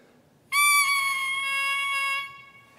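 A double reed blown alone: a single buzzy, nasal tone held steadily for about two seconds, harsh and bright, starting abruptly and then cutting off.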